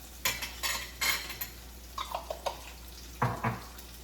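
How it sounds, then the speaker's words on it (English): A utensil stirs harissa hot chili pepper paste around a hot pan, making a series of close, sharp scraping clicks and taps in uneven bursts. "I just mix that around and let it get all nice and hot"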